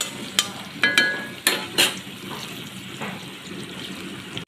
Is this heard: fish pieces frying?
yes